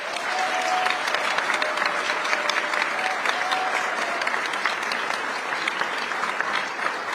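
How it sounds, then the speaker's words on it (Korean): Large crowd applause at a Korean community gathering in San Francisco welcoming President Lee Jae-myung, steady and continuous throughout, many hands clapping at once with no talk over it. "뜨거운 응원의 박수 부탁드리겠습니다"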